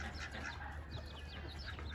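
Chickens on a family farm in the morning, clucking and chattering continuously in a busy flock, close and moderately loud over a steady low background rumble.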